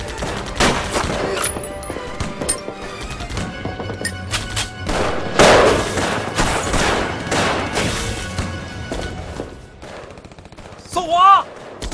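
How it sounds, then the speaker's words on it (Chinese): Machine gun fire on a battlefield during a wartime river crossing, bursts of rapid shots and heavy thuds scattered throughout, loud and close, mixed with shouting voices and a rising whistle near the end. "娘的机关枪！"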